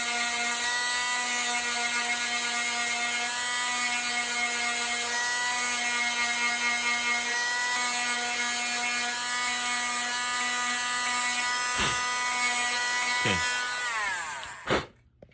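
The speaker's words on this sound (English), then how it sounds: "We're trying to chamfer that edge over." An axe edge is chamfered with a powered tool, giving a steady whining mechanical hum with strong tonal harmonics that runs continuously, then breaks into a few sharp clicks and stops near the end.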